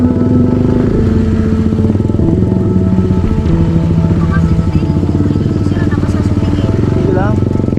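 A motorcycle rides over a slippery dirt road, its engine a steady, close drone running the whole way through while someone talks over it.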